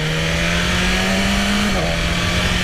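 A BMW S1000RR sportbike accelerates with a loud, steady engine drone, and a quick-shifter gear change briefly dips the pitch partway through before the pull continues.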